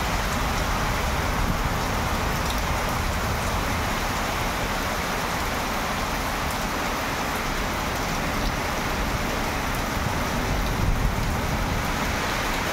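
Heavy storm rain pours down in Bhubaneswar, a dense steady wash of downpour with a low rumble that may be passing traffic, holding constant and fairly loud throughout with no voices.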